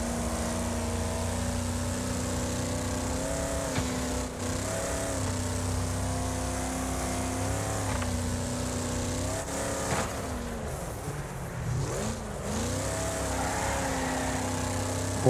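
Car engine racing in Wreckfest, a steady droning whine with shifting pitch as the car accelerates and changes from loose ground onto asphalt, continuous and fairly loud with no talk.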